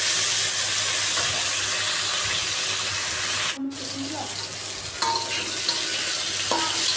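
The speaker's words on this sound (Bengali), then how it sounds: "দেখো আমার তরকারিটা ভাজা হয়ে গেছে ভাজা ভাজা করে নিচ্ছি" Steady, loud sizzling of vegetable curry with green chillies and chilli powder frying in a pan, with a brief clatter midway and faint voices in the background.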